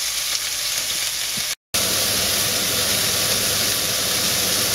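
Beef pieces browning in a pan for beef rendang give a loud, continuous sizzle and hiss close by, interrupted only by a momentary dropout before the steady frying resumes.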